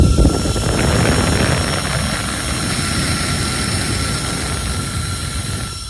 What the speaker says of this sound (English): it's got a fair bit of go with the fan